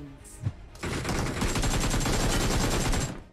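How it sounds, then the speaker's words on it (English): Rapid automatic gunfire in PUBG Mobile, a loud, sustained burst of shots following one sharp single report. "he shot him through a bush"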